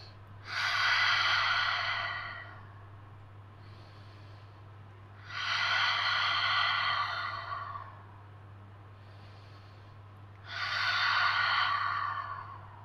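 Three slow, deep breath cycles during prenatal yoga, each a long airy rush through the nose or mouth followed by a softer pause, close and quiet over a low steady hum.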